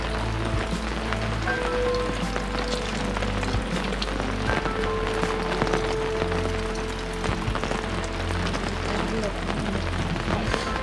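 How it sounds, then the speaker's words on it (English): Rain falls at a campsite in British springtime, a steady dense patter on a nearby surface that continues evenly throughout, with faint background sounds. "You can probably hear the rain."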